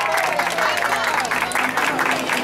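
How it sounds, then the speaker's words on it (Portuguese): Audience clapping for children at a family party in São Paulo, a steady dense patter of many hands running throughout, with voices and crowd murmur mixed in. "Uma salva de palmas para as crianças"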